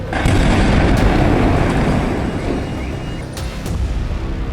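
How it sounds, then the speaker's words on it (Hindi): A loud, rumbling explosion blast near a school boundary in Rohini, Delhi fills the clip with a dense roar that slowly decays, with a couple of sharp cracks near the end. "धमाका जोरदार था"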